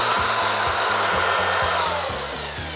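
A cordless angle grinder whines at high speed, a loud continuous hiss with a pulsing low hum beneath, running steadily throughout.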